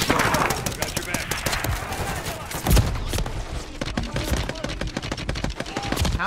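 Rapid pistol fire in the Modern Warfare 3 campaign, a dense run of sharp cracks with one heavier thump partway through, loud and close over game background.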